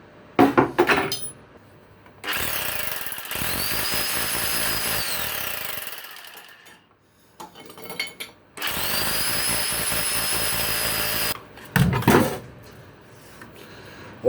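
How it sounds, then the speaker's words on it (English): A power drill with a 6mm masonry bit bores holes while fitting a hidden bunker entrance, giving two long, steady, close-up grinding runs separated by short pauses and a few knocks and handling clatters. "What I'm using there is a 6mm masonry bit to drill my holes and get it set up."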